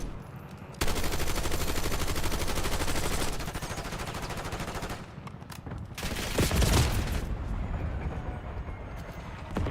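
Gunfire in a video game comes as dense, rapid bursts of shots that run steadily for stretches, pause and then resume louder, close and harsh, with no talk over it.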